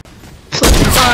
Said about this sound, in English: Why you shoot at me?